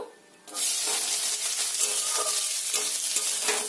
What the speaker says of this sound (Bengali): ওই তেলের মধ্যে দিয়ে দেব কুচিয়ে রাখা পেঁয়াজগুলো।